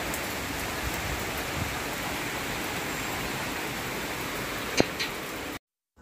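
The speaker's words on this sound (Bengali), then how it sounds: "বৃষ্টির আওয়াজটা শুনেই নিশ্চয়ই বুঝতে পারছেন কতটা জোরে হচ্ছে।" Heavy rain pours down in a dense, steady roar of drops, with a couple of sharper splashes near the end before it cuts off to silence.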